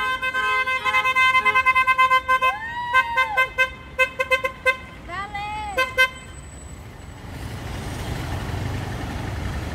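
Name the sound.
car horn honking in traffic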